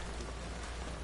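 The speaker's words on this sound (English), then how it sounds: "Oh, it's raining there" Dense, steady hiss of rain pattering on surfaces in L.A. Noire, a brief even wash of falling water.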